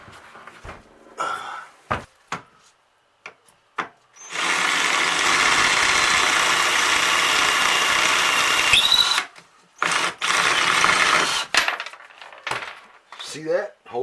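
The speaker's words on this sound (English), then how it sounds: "See that? Hold it to an angle and it'll come out every time." A power drill drilling out rivet nuts on a Can-Am Maverick wheel well runs in one long continuous burst, framed by clicks, clanks and small metallic rattles, then a few shorter drill bursts follow.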